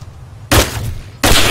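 Two loud, sharp gunshot bursts in the video game DayZ, the first sustained for a moment and the second starting abruptly near the end, over a low background hum.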